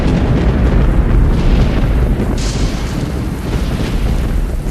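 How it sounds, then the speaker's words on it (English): Loud, continuous deep rumbling of thunder mixed with Union gunboat cannon fire on a stormy night at the Battle of Shiloh, a dense roar with booming swells and no voices. "Thunder and lightning combine with cannon fire from the Union gunboats to create a night no soldier at Shiloh will soon forget."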